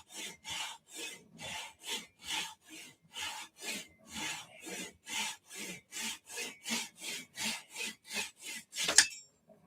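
Pull saw made for cabinet work cutting hardwood, about twenty rhythmic rasping strokes in steady succession, close and clear, ending with a brief sharp clack.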